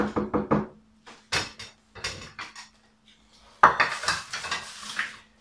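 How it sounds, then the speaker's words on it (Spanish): Egg and onion for a Spanish potato omelette mixed and mashed in a bowl: a quick run of clinking taps, then scattered knocks and a longer burst of scraping and stirring, close and fairly quiet with no talk. "Y ahora lo mezclamos bien, machacamos un poquitín, vamos mezclando aquí, que quede bien homogéneo."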